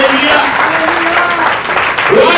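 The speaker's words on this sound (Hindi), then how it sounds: "अरे ताली तो बजाओ प्रभु यीशु के लिए" Congregation at a Hindi-language church service claps for Jesus, thick continuous applause close and loud, with voices calling out underneath.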